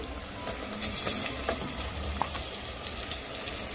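Boneless mutton pieces sizzle and fry steadily in a pan for curry, a continuous close crackle with occasional light stirring clinks.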